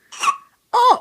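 Two short, separate hiccup-like sounds from a baby boy, each a quick voiced catch with a brief sliding tone, heard close and alone with a pause between them.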